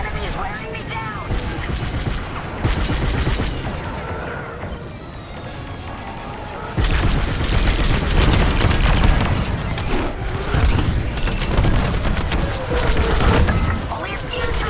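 Star Wars Squadrons space battle with dense weapon fire, blaster bursts and booming explosions rolling continuously, louder in the second half, while a voice talks over the combat.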